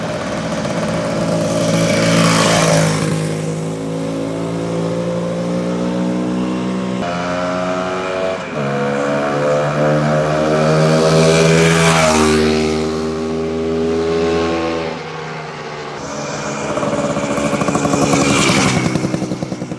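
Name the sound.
restored vintage 250 dirt bike motorcycle test ride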